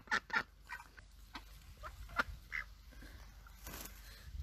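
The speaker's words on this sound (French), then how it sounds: "ces petits canards ont des choses à nous raconter." Ducks quack in short scattered bursts, a few calls clustered at the start and more spread out after, moderately close in quiet surroundings.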